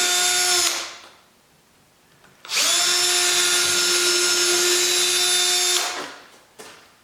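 A power drill drives screws into wooden boards for a homemade car ramp, with a short burst, a pause, then a longer steady whine of about three seconds, loud and close, then a brief tail.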